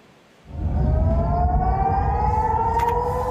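An air raid siren in Israel starts after a brief quiet and wails loudly and steadily, its tone slowly rising.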